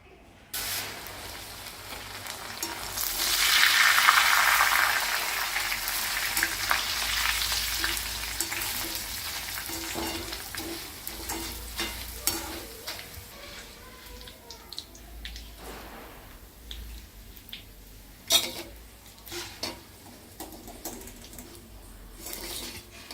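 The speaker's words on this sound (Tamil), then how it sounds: "இப்போ பொரிச்சுடலாம்" Flattened rice (aval) fried in hot oil over high flame for Madras mixture, a loud burst of crackling sizzle that settles into steady frying with scattered clinks of a ladle against the pan, close by.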